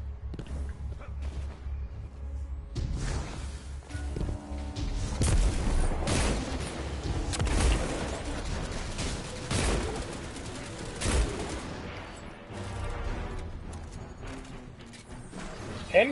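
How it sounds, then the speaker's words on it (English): Heavy, booming hand cannon gunshots in Destiny 2 crack out repeatedly over a dense, continuous mix of game effects and music. "Hand cannon noise is really nice."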